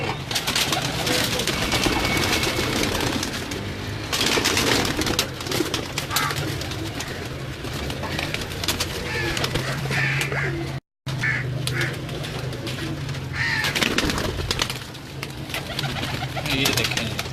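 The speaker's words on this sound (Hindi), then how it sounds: "ये मेरे सलारे टैडी कबूतर हैं।" Salara teddy pigeons coo steadily at close range, with several birds' soft, repeated calls overlapping against a busy background of ambient noise, broken by one brief dropout.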